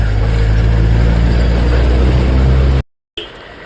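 A loud, steady low rumble of cars idling in a stopped queue on a mountain road near Ghum station in Darjeeling. The drone is continuous and close, then cuts out abruptly for a moment before resuming more faintly.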